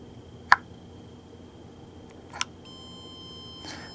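A ZOLEO satellite messenger in SOS mode gives two short, sharp electronic beeps about two seconds apart over a quiet background, with a faint steady tone running beneath.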